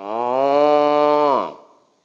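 A cow's single long, loud moo, used as a sound effect in a told children's story, swells for about a second and a half and then fades, heard alone with no voices.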